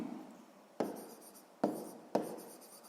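Hand writing for a sixth-grade math exercise, with three sharp taps of pen or chalk each followed by a short scratchy stroke, fairly close and quiet with no voice.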